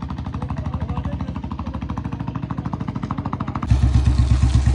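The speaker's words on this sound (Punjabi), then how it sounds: "ਬੁਲਟ ਚਲਾ ਰਿਹਾ ਕਹਿੰਦੇ ਜੀ ਮੈਂ ਵੀ ਬੁਲਟ ਚਲਾ ਕੇ ਦੇਖਿਆ" A Royal Enfield Standard Bullet thumps along with a steady, rapid single-cylinder beat, close and clear, growing louder and deeper near the end as the engine pulls harder.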